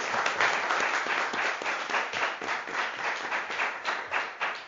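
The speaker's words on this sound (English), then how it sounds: "So let's applaud." A steady round of applause from a group, dense overlapping claps at an even volume for several seconds, with no talking.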